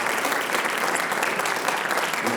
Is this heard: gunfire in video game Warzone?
no